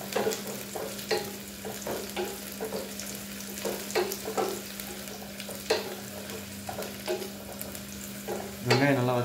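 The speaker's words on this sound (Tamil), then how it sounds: "வெங்காயம் நல்லா வதங்கி வரணும், அதுதான் நல்லாயிருக்கும் முட்டுக்கு." Onions sizzling in a pan for egg curry while a spoon stirs them, repeated scraping strokes over a steady frying hiss with a low hum, close and with no talk.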